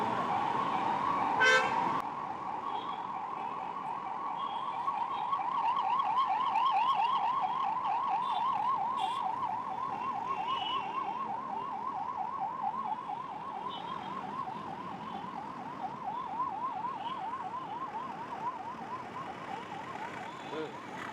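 An ambulance siren wails continuously in a traffic jam near Tarnaka in Hyderabad, a steady rising-and-falling tone moderately near over the low hum of road traffic, with no talking.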